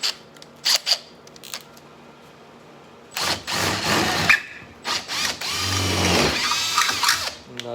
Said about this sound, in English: And now I'm going to open up the middle one with the bigger drill bit